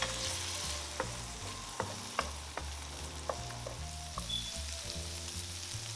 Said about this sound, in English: now I'm gonna add sun-dried tomatoes, about 2 or 3 of those, a tablespoon of minced garlic, and just a little bit of white onion